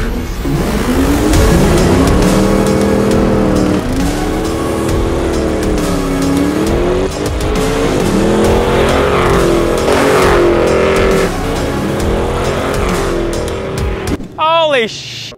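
A car launches hard with no traction and slides sideways: loud engine revving rises and falls in repeated surges with tire noise throughout, cutting to quieter sounds near the end.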